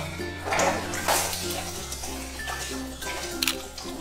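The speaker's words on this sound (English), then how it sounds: "we take our last tabo and we do it for luxury rinsing" Water is poured from a tabo dipper for a final rinse during bathing, giving a couple of close splashing gushes followed by lighter trickling and dripping.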